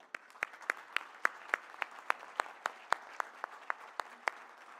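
Scattered, slow applause from a small audience at a G20 interfaith forum: about twenty distinct, sharp hand claps at an uneven rhythm, fairly quiet and close, with nothing else underneath.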